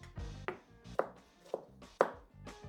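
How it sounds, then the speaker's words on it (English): Knife strokes through onions on a cutting board land in a steady rhythm, about one sharp chop every half second, close and distinct with no talking, during home cooking of dal. "I seriously hate chopping onions."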